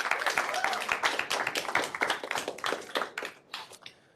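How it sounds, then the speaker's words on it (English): A tech meetup audience applauds with dense, steady clapping that gradually thins out and fades toward the end. "a big round of applause for Cisco Meraki for hosting us today"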